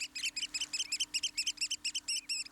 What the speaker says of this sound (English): These striking wading birds are noticeable for their sharp piping call.